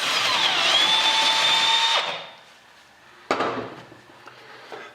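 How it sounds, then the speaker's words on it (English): A LaserBest step reamer cuts a hole in a steel piece, giving a loud, steady high-pitched power-tool whine for two seconds that then stops, followed by a sharp clank and quieter handling noises. "LaserBest step reamer to ream it out to a 1/2-inch hole."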